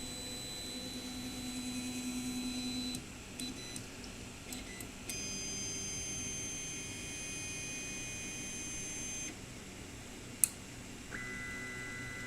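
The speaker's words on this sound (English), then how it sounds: "So this is the sound of the printer right now." A 3D printer homing all of its axes, a loud, steady mechanical whine with tonal stepper-motor hums that shift and stop in stages, plus a brief sharp click near the end; no talking.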